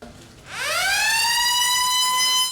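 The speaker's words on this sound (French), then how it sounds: "retentissement de la sirène" A rising siren sounds at the start of a baccalaureate exam at a school exam centre in Benin, sweeping up from low after a quiet half second, then holding a loud, steady wail to the end.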